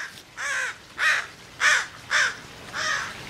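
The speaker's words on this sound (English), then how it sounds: "Bird." A crow caws five times in a steady, evenly spaced series, each call loud, harsh and close, heard alone over quiet outdoor background by a pool.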